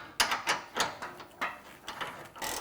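Ratchet wrench with a 22 mm socket clicking in several short bursts while tightening rear bumper bolts on a Jeep Wrangler JL Unlimited, close and distinct with brief pauses between strokes.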